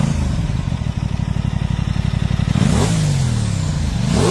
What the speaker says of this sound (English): Parallel twins can sound very different depending on how the crankshaft is designed.